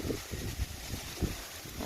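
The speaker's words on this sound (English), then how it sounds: "You can tell it's getting really windy." Gusty wind buffets the microphone in low rumbling bursts, uneven and close, with no one talking.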